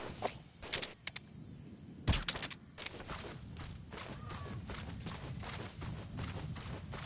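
Donkey hooves clip-clopping in Metal Gear Solid V, an uneven run of close, sharp hoof clops with a louder knock near the start, steady game ambience beneath.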